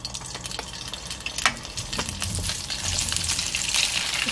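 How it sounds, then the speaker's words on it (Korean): Tofu fries in oil in a wide frying pan, a close, bright sizzle and crackle that swells slightly louder toward the end, with a few soft pops and spatters. "지금 두부를 구울 건데요"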